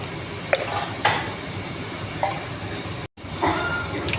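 Green chillies and turmeric frying in a pan for cabbage fry, giving a steady broadband sizzle with a few sharp stirring clinks and scrapes, close and continuous with no talk.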